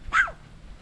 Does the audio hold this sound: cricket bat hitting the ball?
no